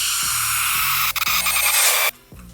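A riser sound effect in a LOVBUG x SHINJIN type beat, processed with Gross Beat and the Transgate 3 gating plugin: a bright, loud noise swell that chops into bouncy gated bursts over steady low kick thumps, then drops away sharply near the end.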